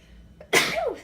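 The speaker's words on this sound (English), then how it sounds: "I had to sneeze like crazy." A single sharp sneeze, close and loud, preceded by a brief inhale, with a short tail of breath afterward.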